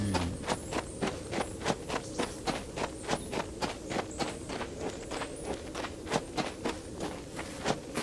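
Horse hooves clip-clop in the video game Rust, a steady, evenly spaced run of sharp hoofbeats at moderate volume with no talking over them.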